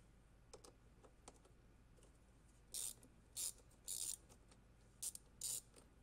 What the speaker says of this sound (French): Donc avec une douille de 10 et le petit cliquet.